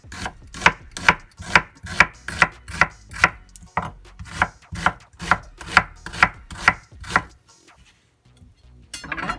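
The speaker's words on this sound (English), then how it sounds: "You can chop the onion however you want." Onion chopped with a knife on a cutting board: about sixteen crisp, evenly spaced thuds in a quick steady rhythm, close and clear, stopping near the end before one last faint knock.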